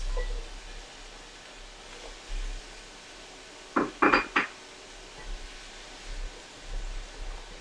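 Small round carrot slices tumble into a pot and get tossed around, a few quick clattering knocks clustered together over a quiet background.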